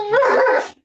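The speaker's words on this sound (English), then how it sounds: "That's my dog's barking." A single dog barks up close, one loud, brief yelp-like bark in an indoor home setting.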